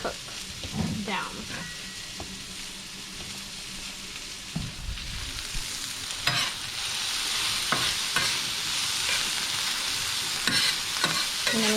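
Steak fajita vegetables cooking down in a hot pan, with a steady sizzle and scattered spatula scrapes and clinks, a few louder stirring knocks near the start, close by.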